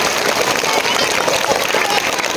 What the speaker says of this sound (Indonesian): Mari kasih tepuk tangan dulu dong.